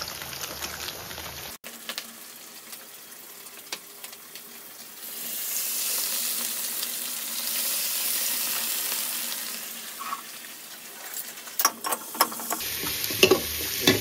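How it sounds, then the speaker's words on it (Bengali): Fish and potatoes fry in a pan, giving a steady, close hiss of sizzling oil that swells in the middle and carries on with scattered pops and spatters, plus a few clinks near the end. "এদিকে আলু ভাজা স্টার্ট হয়ে গেছে"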